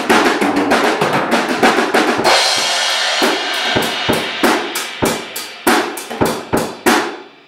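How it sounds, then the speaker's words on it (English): A rapid drum fill rolls across snare and toms, a dense burst of hits giving way to evenly spaced, punchy strikes, loud and close. "So the drum fill is going to sound like this."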